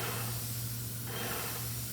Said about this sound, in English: he sprayed the steps